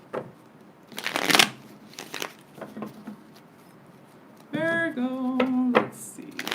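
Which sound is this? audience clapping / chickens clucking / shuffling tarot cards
shuffling tarot cards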